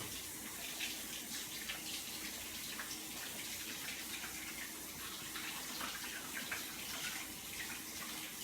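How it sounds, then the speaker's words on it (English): Hands are washed under running tap water during bread-dough mixing, heard as a steady, soft hiss of flowing water with faint splashing throughout, with no talking. "Let me wash my hands and I'll show you."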